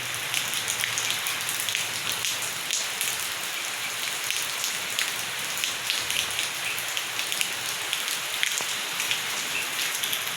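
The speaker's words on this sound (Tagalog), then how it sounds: "Ang lakas ng ulan." Heavy rain pours steadily onto surfaces nearby, a dense continuous hiss of drops with scattered sharper taps and no speech.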